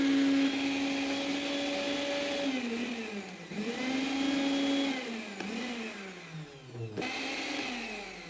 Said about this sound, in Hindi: अभी ये मिक्सी अपना काम ठीक से कर रही है